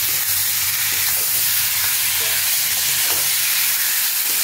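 Fried potatoes and onions stirred in a hot pan for egg peyaji, a loud continuous hiss of sizzling with faint scraping from the stirring, no voices.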